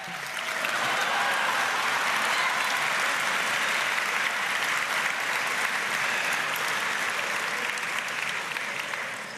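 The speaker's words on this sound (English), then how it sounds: "how about a round of applause for Kim Cattrall?" A large audience at a political speech gives a sustained round of applause that stays loud and steady for the whole stretch, with no talking over it.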